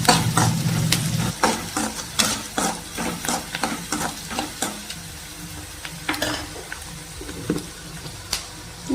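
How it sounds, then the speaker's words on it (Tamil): Onions sautéed with salt in a pan, with a spatula scraping and tapping in an uneven rhythm over a soft sizzle, close up and with no talking. "நம்ம அப்படியே வெங்காயத்தை வதக்கிறத விட உப்பு போட்டு வதக்கிறது சீக்கிரமாகவே வதங்கிடும்"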